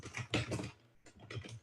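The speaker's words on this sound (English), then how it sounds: "Pardon the clacking of my, my typing here." Computer keyboard typing, with loud, close clacking keystrokes in two quick bursts separated by a short pause, no voices.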